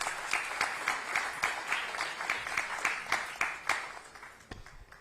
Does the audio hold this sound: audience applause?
yes